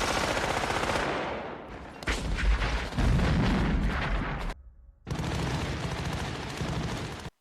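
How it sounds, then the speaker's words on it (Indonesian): A Vietnam War film battle scene with a dense, heavy exchange of gunfire and booming explosions. The fire is loud and nearly continuous, with a brief pause before it resumes. "Momen di mana baku tembak sengit berlangsung."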